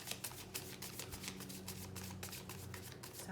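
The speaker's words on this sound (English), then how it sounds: "One more shuffle, then I take from the middle." Tarot cards shuffled close up, a dense run of quick papery riffles and flicks, quiet and continuous with no speech.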